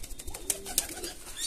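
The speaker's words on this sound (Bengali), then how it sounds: "আজকে এই সন্ধ্যাবেলা এখন একটু খাবার দেবো পায়রাগুলোকে" Pigeons coo softly while being fed corn on an evening of light rain, with faint, brief calls and a few soft flutters nearby.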